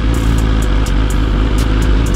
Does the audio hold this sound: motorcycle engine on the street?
yes